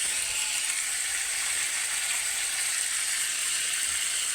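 Potatoes frying with salt in a pan, a steady, even hiss of sizzling oil, close and moderately loud, uninterrupted throughout.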